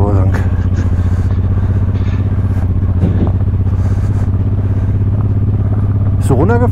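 A Honda Transalp motorcycle rides off-road during enduro training at the Stöffelpark, its engine a loud, steady low drone with rattles from rough ground, while a rider's voice comes through over it.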